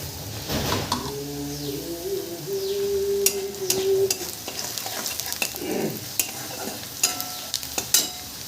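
Onions frying in a pan with turmeric and salt for a bread-crumb chivda, a continuous close sizzle with repeated spatula scrapes and stirs, while birds coo faintly in the background.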